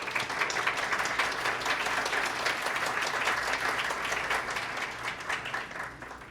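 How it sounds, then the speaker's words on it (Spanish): An audience at a talk honoring women breaks into steady, dense applause, moderately loud and sustained throughout, then tapering slightly near the end. "creo que se merece un gran aplauso."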